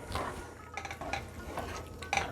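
Chopped onions stirred into karela keema in a pot: quiet scraping and clinking of a utensil against the pot in irregular strokes over a soft sizzle, close and fairly faint.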